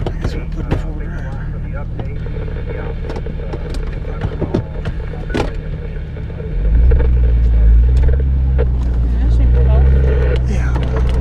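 A Jeep rumbles off-road, shifted into four-wheel drive. The engine drones steadily under close conversation, then swells into a deeper, louder growl as it pulls away over rough ground.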